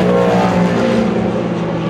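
Race cars roar past trackside at the exit of turn 5 during the Portimão WEC 6 Hours, a loud, close, continuous engine blare.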